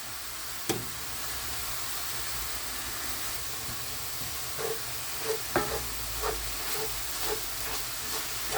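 Ground turkey with thyme, salt and pepper sizzles in a pan, with a low steady frying hiss and a few soft scrapes and taps of stirring scattered throughout.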